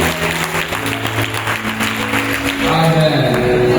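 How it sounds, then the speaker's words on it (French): Members of a charismatic prayer assembly clap together in a steady, fairly loud burst, with faint voices and some music mixed underneath. "Donne l'acclamation pour le Seigneur pour la bénédiction"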